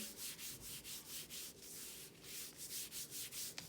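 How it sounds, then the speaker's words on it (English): Paper pressed onto an inked gelli printing plate is rubbed hard by hand, making a quiet, close rhythmic scrubbing of repeated brushing strokes, about three per second, with no talking. "I'm going to press it down and rub pretty hard"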